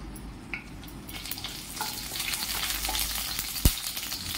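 Green chillies fry in a small amount of oil in a hot pan, giving a steady close sizzle with scattered crackles and pops and one sharp spatter burst near the end, with no talking.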